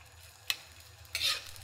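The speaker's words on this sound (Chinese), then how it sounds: "再开大火炒起来" Rice with egg being stir-fried in a wok over high heat, with two brief bursts of spatula scraping and tossing over a low steady hum, close but fairly quiet, no speech.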